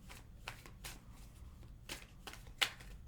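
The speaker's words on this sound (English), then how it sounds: "Let me pull that out before I start shuffling too much." A deck of Osho Zen Tarot cards being shuffled by hand: several quiet, close riffling bursts at an uneven rhythm, ending with a brief sharper flick, and nobody speaking.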